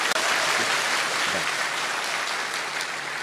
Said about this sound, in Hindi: इन तीनों मुस्लिम भाइयों के लिए जोरदार ताली।